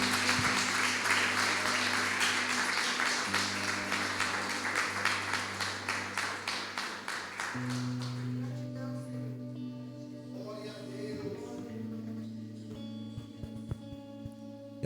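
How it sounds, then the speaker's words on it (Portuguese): Church congregation applauding during a sermon, a steady dense wash of clapping at first that thins out halfway through, with sustained organ or keyboard chords droning underneath. "Você pode dar uma salva de palmas para Jesus?"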